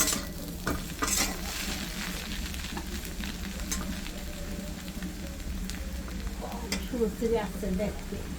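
Cooked noodles stirred and fried in oil with spices, a continuous close sizzle broken by frequent scraping, clattering strokes of a spoon against the pan.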